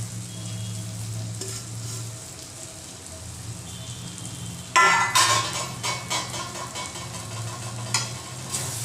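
Roasted semolina is stirred and tossed in a hot pan for Maharashtrian upma, giving a steady sizzle and then a louder burst of scraping, crackling stir-fry noise midway, continuing in uneven pulses with no one talking.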